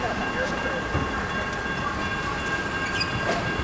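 A Norfolk Southern freight train rolls past at Barnesville, Georgia, a loud continuous rumble with steady wheel clatter and squeal, close and unbroken throughout.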